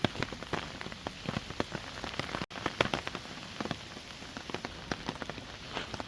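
Steady rain falls on a forest wooden deck trail on Bonghwasan mountain in the morning, a constant patter with scattered sharper drops striking nearby wood, broken once by a brief gap.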